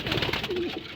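A stressed racing pigeon, just back from a race, gives a single soft, low coo up close, brief and muffled against a steady background hiss.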